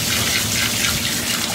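A continuous, close rush of water spraying from a Bathing Beauty dog bathing system while a large dog is bathed, steady and loud with pressure slightly easing and no voices.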